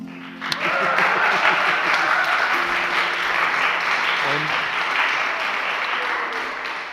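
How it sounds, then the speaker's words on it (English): A church concert audience applauds in a large, reverberant hall, a full steady round of clapping that rises quickly and holds, with faint voices and stray tones underneath. "can we have a little sigh of relief and a round of applause for the fact that the guitar is fine"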